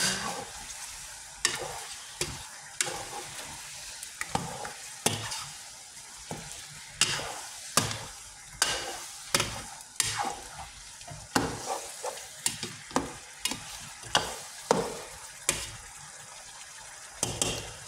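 Chicken sautéing in a hot pan, with repeated scraping stirs and a steady sizzle, close and fairly loud, the utensil strokes recurring every second or so.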